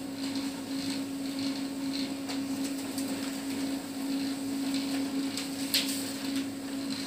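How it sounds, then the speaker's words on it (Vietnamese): A Canon LBP3300 laser printer runs in duplex mode, giving a continuous close mechanical hum with faint clicks and paper-feed rustles throughout. "Đây là hiện tại đang là in ở chế độ in đảo mặt các bạn nhé."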